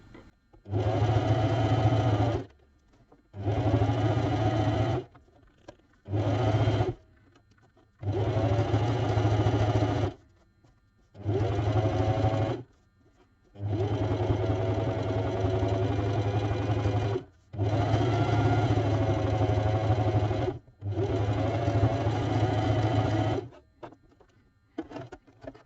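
Sewing machine running a zigzag line on fabric during reverse applique embroidery, heard in eight loud bursts of rapid mechanical stitching separated by brief pauses, with no talking.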